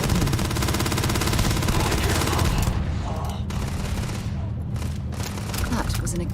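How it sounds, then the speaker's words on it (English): Gunfire from a Starfield firefight. Dense, continuous bursts of shots and booms roar loudly and closely throughout, easing briefly in places but never stopping. "There were people firing."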